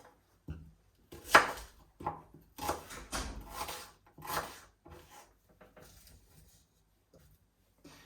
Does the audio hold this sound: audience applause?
no